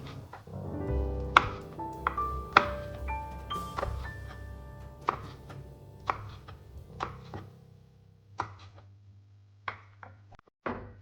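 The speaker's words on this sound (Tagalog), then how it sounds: "hiwain lang natin ng manipis na pa-slice lang guys" A knife thinly slices green onion on a cutting board, giving a series of crisp, close taps in an uneven rhythm with a few light ringing clinks, and no voice.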